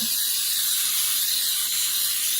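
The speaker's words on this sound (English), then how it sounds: "we're going to spray our 13 by 9 sheet cake pan" A continuous, close aerosol hiss of cooking spray coating a 13 by 9 sheet cake pan, steady for a couple of seconds, bright and airy with no pauses or voices.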